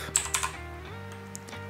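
Quick keyboard typing taps while entering a map code in a Fortnite horror map, a short burst of clicks over a steady game-menu drone, fairly close and light.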